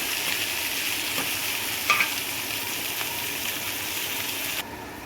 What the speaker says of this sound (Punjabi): ਪਿਆਜ਼ ਨੂੰ ਆਪਾਂ ਥੋੜਾ ਜਿਹਾ ਆਪਾਂ ਭੁੰਨ ਲਿੱਤਾ